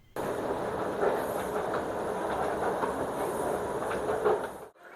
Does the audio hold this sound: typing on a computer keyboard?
no